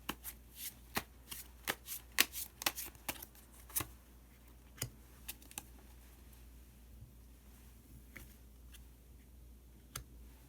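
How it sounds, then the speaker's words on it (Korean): Tarot cards being shuffled and drawn, a burst of quick close riffles and snaps early on, then sparser single card clicks and slides against quiet room tone, with no talk. "히든 카드를 한 장 더 뽑아보도록 하겠습니다."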